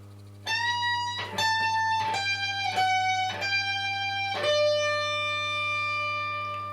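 An electric guitar plays a section of a song: a run of about seven picked notes stepping downward, each ringing with rich overtones, the last left to sustain, over a steady low hum.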